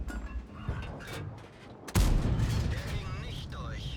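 World of Tanks tank cannon fires once with a sudden heavy boom partway through, followed by a lingering rumble and game sounds, after quieter distant shots and a person speaking.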